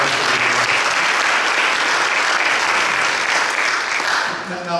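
Steady, dense applause from an audience at a governor's advisory council meeting on diversity and inclusion in Philadelphia, loud and continuous with no voices, easing slightly near the end.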